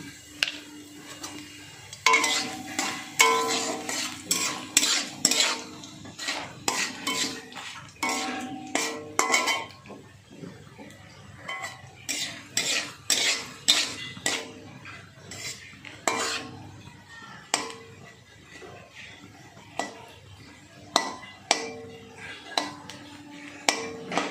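A utensil scrapes and clinks against a pan while black cumin, cumin and dried chillies are stirred in oil, in repeated bursts of metallic knocks and scrapes over a faint sizzle, with no voices.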